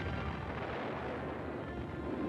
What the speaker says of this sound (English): from the skies over Germany, where B-17s relentlessly bombed the Nazi war machine